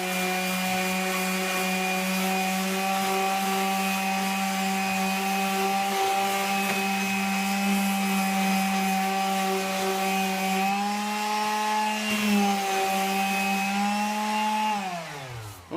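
A wooden gun stock being sanded at 180 grit, heard as a steady, loud motor-like hum with a strong drone that holds evenly, then dips in pitch and winds down at the very end.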